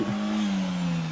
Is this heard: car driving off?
yes